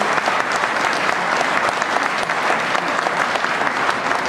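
A congress audience at a Lions Club district gathering in Honfleur claps loudly and continuously, dense steady applause from a large crowd filling the room.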